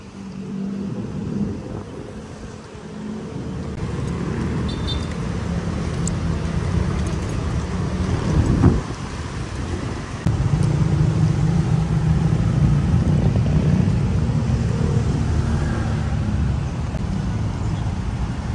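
Cars passing through a tunnel beneath the Zapote bridge over the Zapote River, a continuous low roar of traffic with engines swelling and fading, loud and close, with a sharp knock partway through.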